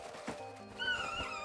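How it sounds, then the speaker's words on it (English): Chocobo call from Final Fantasy XVI, a short bird-like warbling cry rising in pitch, heard alone for about a second at moderate volume. "Where is the chocobo?"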